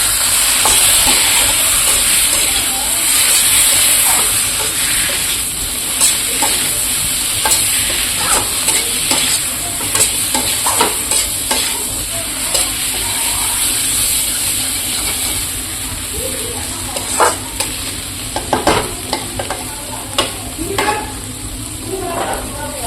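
Potatoes fry in a pan with a loud, constant sizzle and hiss, broken by frequent scraping stirs of a spatula that grow sharper and more scattered toward the end.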